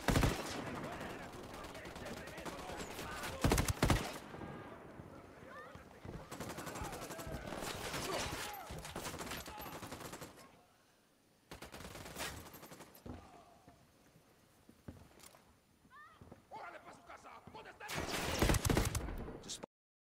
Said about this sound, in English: Submachine guns.